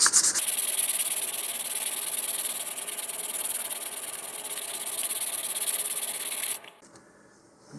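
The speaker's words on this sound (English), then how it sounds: "this is very quickly clogging up my sandpaper" Sandpaper rubbing steadily against a model rocket part, a close, continuous scratchy hiss that runs for several seconds and then stops abruptly, with no voices.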